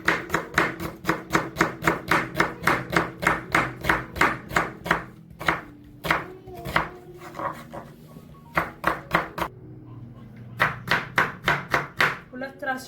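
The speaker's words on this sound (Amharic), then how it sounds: "ይሄንን ሽርሚሪን ከትፈዋለሁ ማለት ነው።" A knife chopping onions on a cutting board at home, fast, even, crisp strikes in long runs broken by short pauses, close and clear, with no one speaking.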